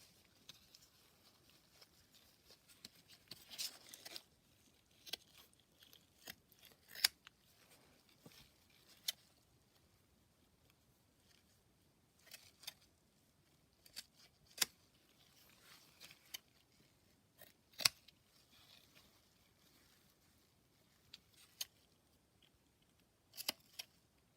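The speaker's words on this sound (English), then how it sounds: "as soon as it dries, cut off the excess again" Scissors trimming excess material from a wire bra, heard as faint, sparse snips and small rustles spread unevenly across a quiet stretch with no talking.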